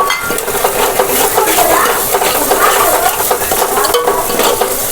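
Masala spices frying in oil in a pan for chicken curry, a loud, steady, close-up sizzle with stirring scrapes and occasional metallic clinks throughout.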